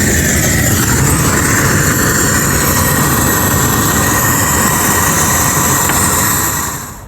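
A propane burner flame roars loudly and steadily after a thermocouple replacement, making a close broadband rumble that holds constant before fading quickly at the very end.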